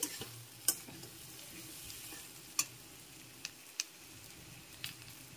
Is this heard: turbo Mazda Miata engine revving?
no